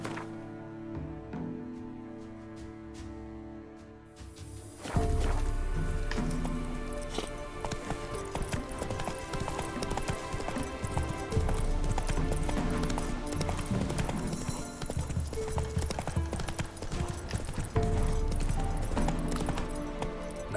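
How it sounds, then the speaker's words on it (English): A horse gallops in The Witcher 3: Wild Hunt. A few seconds of tonal game sound give way to loud, rapid, continuous hoofbeats running steadily to the end, with no talk. "Whoa there, Roach."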